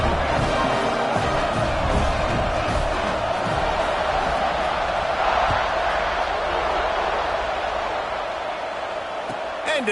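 A stadium crowd in a college football video game roars continuously at a loud, steady level for the whole stretch, with commentary voices talking over the cheering.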